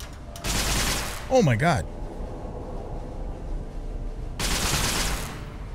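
Gunfire from the Capital Punishment weapon in Fallout: Tale of Two Wastelands, loud bursts of shots at the start and again near the end, with an excited voice calling out between them.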